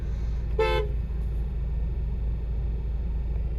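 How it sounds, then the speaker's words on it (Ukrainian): A single short toot from the horn of a 2006–2013 Citroën Grand C4 Picasso seven-seat minivan, loud and close over the steady rumble of its running engine. "Ось так мене сигналить."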